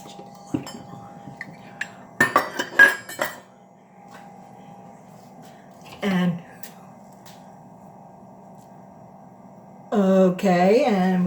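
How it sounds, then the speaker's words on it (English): A whisk clinks and scrapes against a pot as a butterscotch mixture cooks and thickens. Short bursts of metallic stirring come in clusters near the start, once briefly in the middle and again at the end, with quiet hum between them. "we cook for 2 minutes, whisking and we whisk it till it's slightly thickened"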